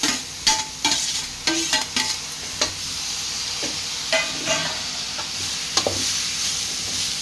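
Beans palya is stirred in a hot pan: irregular spatula scrapes and clacks cut through a constant close sizzle, with no talking.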